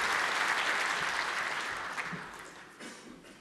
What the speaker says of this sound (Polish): specjalne brawa dla prezesa